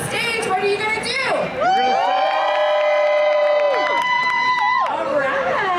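Loud crowd cheering and whooping at a car show contest during a rockabilly weekend in Las Vegas, sustained shouts and screams from many voices throughout, close and dense.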